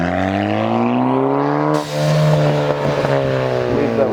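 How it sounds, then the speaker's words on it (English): Road traffic passing in both directions, with loud, close engines whose pitch sweeps and falls as vehicles go by, one passing swiftly after another in a steady roar. "We can sort of see traffic going both ways,"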